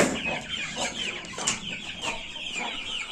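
Young growing chickens on a farm clucking and chirping in a loose cluster nearby, a continuous busy chatter of short calls.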